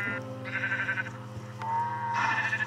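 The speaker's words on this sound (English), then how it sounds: "The next thing we are gonna spawn is a sheep." Sheep in the video game Minecraft bleating: two or three short nasal bleats in quick succession over a steady low background hum, close and clear with no talk.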